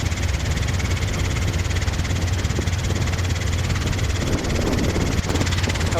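A Robinson R22 helicopter's engine and rotor run steadily and loudly throughout, a constant throbbing drone with rhythmic low vibration and no pauses.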